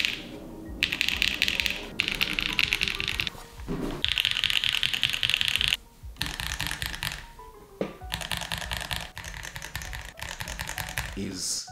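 Fast typing on a 100 Thieves keyboard with the top case pressed down, dense clacking bursts of keystrokes close up, broken by short pauses and a few louder clunks.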